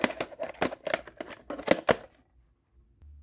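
A Betamax tape being pushed into a player, giving a burst of close mechanical clicks, clacks and rattles over about two seconds before the mechanism goes quiet.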